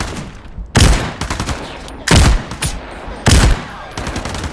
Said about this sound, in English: Back to the shotgun.